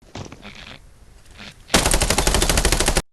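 Video game gunfire, a few scattered shots followed by a loud, sustained rapid burst of automatic fire lasting over a second, close and alone.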